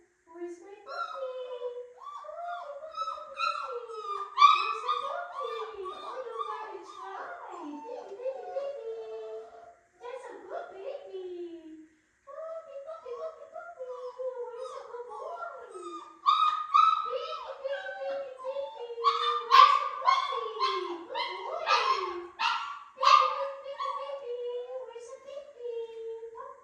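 A puppy whimpers and howls in long, wavering, pitch-sliding cries that go on almost without a break. There are a couple of short pauses, and the calls grow louder and more broken near the end, heard close up and alone.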